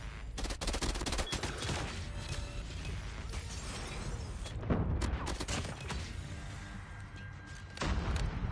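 Burst-fire gun shots in COD Mobile during a contested Hardpoint match, rapid clusters of sharp cracks repeating throughout, with loud impacts near the middle and end over dense game noise.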